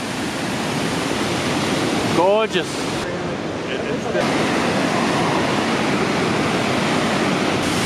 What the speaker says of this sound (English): Welcome to the Athabasca Falls.